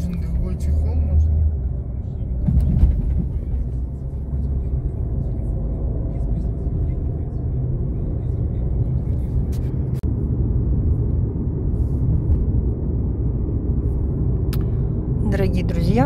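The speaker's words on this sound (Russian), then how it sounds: "мы с вами едем в сторону Лахта-центра" A car drives along a road toward the Lakhta Center, its steady engine and tyre rumble droning evenly underneath, heard from inside the vehicle, with no talking.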